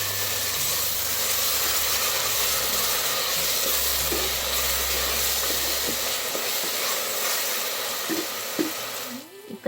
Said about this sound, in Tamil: இப்போ நம்ம அரைச்ச மசாலாவும் இது கூட ஆட் பண்ணி நல்லா வதக்கி விட்டுருவோம்.